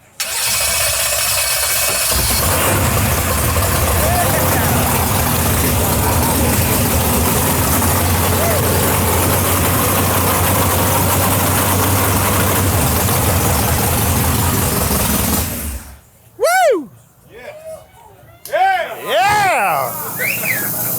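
A 632ci big block Chevy nitrous engine fires up and idles loud and rough for about fifteen seconds, then cuts off, after which people talk excitedly.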